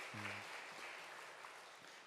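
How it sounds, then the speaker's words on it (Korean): A church congregation claps during a Sunday worship service, a faint, distant wash of applause that stays steady and soft throughout, with a brief low tone near the start. "다시 한번 격려 한번 박수 한번 쳐주시기 바랍니다."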